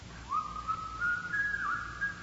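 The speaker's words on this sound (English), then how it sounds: "Somebody's whistling. It's Yankee Doodle." Someone whistles the tune Yankee Doodle in a radio mystery drama, a thin, wavering melody heard faintly and alone.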